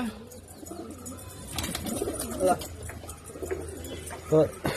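Pigeons at a sale coo in short, soft bursts amid a busy, noisy background, with people talking nearby.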